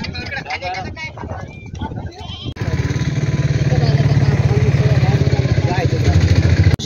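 Native village goats at the Bolda goat market in Kalamnuri taluka, Hingoli district, bleat in repeated strained cries amid loud market bustle, with people talking and an engine droning nearby.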